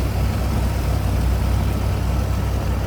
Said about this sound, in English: Smooth running, don't hear any lifters, anything like that ticking. Doesn't sound like exhaust leak. Nice running engine.